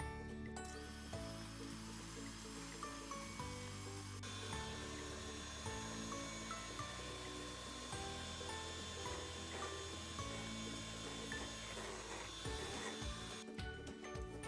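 Electric hand mixer whirring steadily at top speed while beating egg whites and yolks for a sponge cake, a continuous loud motor drone with shifting tones as the beaters move through the bowl, no voices.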